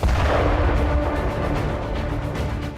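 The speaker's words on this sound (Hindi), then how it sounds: "हमले के बाद कई धमाके हुए" Dense, sustained rumbling blasts with crackling bursts after a drone strike on a Russian base and its weapons depots, loud and continuous with no voices.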